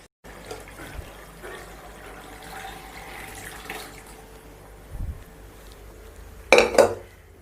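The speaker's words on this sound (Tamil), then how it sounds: "கூடவே தண்ணி சேர்த்துக்கோங்க." Water poured into a pot of Tamil arachuvitta paruppu sambar with mashed toor dal, a short splashy burst near the end after quiet kitchen clatter and faint utensil clinks.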